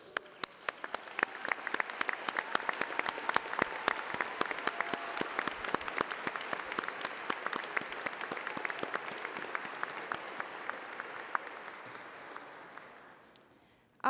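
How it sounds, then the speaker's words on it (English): A graduation ceremony audience bursts into sustained applause, dense clapping from a large crowd that rises quickly, holds steady for over ten seconds, then tapers off near the end. "please stand while we give you a round of applause."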